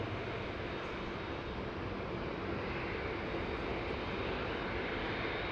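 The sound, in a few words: Qantas Airbus A380 taxiing back to the terminal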